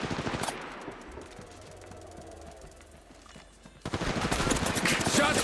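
Gunfire rings out in a first-person shooter game played on a Poco X3 Pro phone. A loud opening volley fades to quieter shooting, then a dense, sustained burst of rapid shots breaks out near the end.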